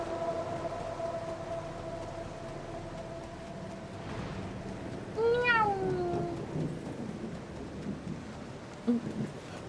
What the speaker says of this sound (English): Look at him go meow.